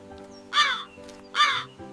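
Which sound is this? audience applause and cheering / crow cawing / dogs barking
crow cawing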